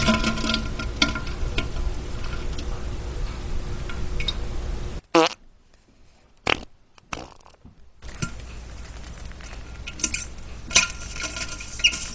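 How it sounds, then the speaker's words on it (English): Fart sounds: bursts of sputtering, wet-sounding noise fill the first five seconds, then short isolated pops break through near-silence before the dense sputtering returns, loud and close with no talk. "whenever you hear me farting and me pooping"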